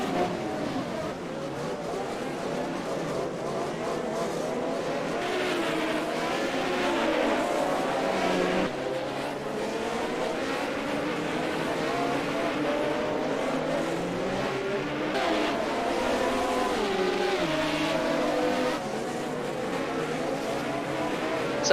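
Race cars with no suspension, a sustained droning engine roar with shifting pitch as the cars drive, fairly loud and continuous, with faint talk underneath.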